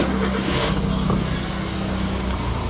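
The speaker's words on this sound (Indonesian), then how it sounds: "Saya akan startup." A 2013 Daihatsu Terios TX SUV engine starting up, heard close as a steady mechanical hum with a low drone that settles into idle, and no talking.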